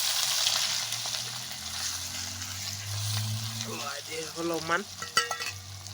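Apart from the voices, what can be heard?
onion and spices frying in hot oil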